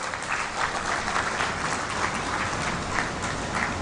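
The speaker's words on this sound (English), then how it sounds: "Can we show him some love and give him a round of applause?" A conference audience at a Uganda–Kenya coast tourism event gives a steady round of applause for the Consul General, dense clapping heard alone without talk.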